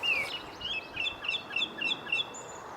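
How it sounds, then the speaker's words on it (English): A songbird sings outside a narrowboat in the evening, repeating a string of bright, clear chirps and short trills. The song sounds close and stands alone over a quiet background. "This bird really does deserve an Oscar."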